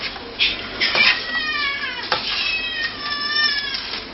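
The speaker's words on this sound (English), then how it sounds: "Must be smelling good, the cats are here." Cats meow repeatedly in a home kitchen during cooking, the drawn-out, wavering cries close and fairly loud, overlapping one another alongside faint clatter.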